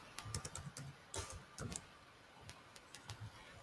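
Someone types on a computer keyboard in short bursts of quick, faint clicks separated by pauses, with no voices.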